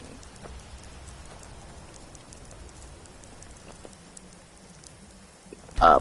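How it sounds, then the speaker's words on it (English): Rain falls steadily in the video game Skyrim, a constant soft patter of drops on surfaces with no talking, ending in a brief louder burst of sound. "I wish the rain would stop."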